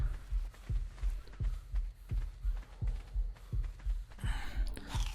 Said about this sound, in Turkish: Ne ne kalp atışıymış.